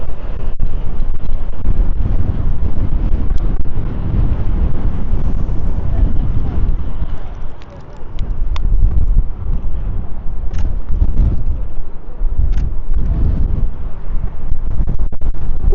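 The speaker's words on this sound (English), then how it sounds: "That is windy." A strong wind blows down a city street, a loud, steady rushing roar buffeting the microphone throughout, dipping briefly midway before surging again, with no voices.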